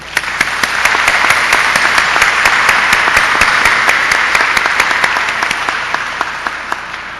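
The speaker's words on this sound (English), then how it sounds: "I would like to give another round of applause" A large audience applauds steadily at a graduation ceremony, swelling and then slowly fading, with a few sharp individual claps standing out near the end.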